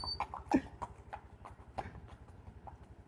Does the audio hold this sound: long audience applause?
no